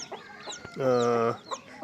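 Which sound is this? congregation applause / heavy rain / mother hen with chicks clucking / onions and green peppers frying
mother hen with chicks clucking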